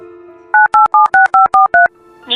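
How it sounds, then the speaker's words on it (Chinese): Seven touch-tone keypad beeps dialed on a telephone in a quick, even rhythm, each short and clear, followed by a brief trailing sound at the end. "你给他打电话啊！"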